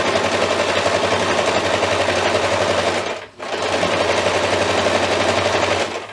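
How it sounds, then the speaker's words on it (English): Up close, a sewing machine stitches quilt binding onto a table runner in a loud, fast, steady chatter that halts for a split second near the middle, then resumes at the same pace. "And keep sewing."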